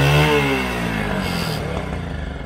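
A motorcycle without an electric starter is revved hard, its engine note dropping quickly from a high rev into a rough, pulsing idle, loud and close, with no talk.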